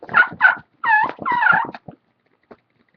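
Turkey fighting purr made on a hand call, with a hat shaken to mimic wing flaps: a few raspy, rolling purr bursts with short yelps close up, then silence. A person is imitating turkey sounds.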